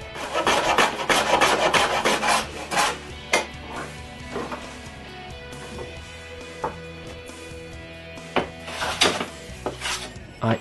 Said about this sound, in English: I end plane the front of the drawer straight on both sides and I sand them.